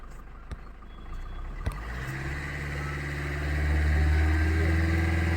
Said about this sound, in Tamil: இப்போ பாருங்கள், நான் ஆக்சிடென்ட் கொடுக்குறேன் சரிங்களா.